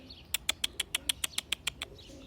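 A quick run of about ten sharp, evenly spaced chirps from pigeons nearby, with no talking. The chirps are bright and clipped, spaced like a rapid call.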